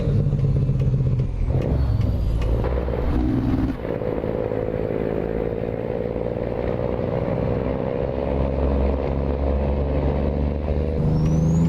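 A Cummins N14 diesel engine in a Peterbilt 389 glider truck in American Truck Simulator drones steadily at low rumble, with slight revving changes, clatter and a brief gear shift, continuous and close throughout.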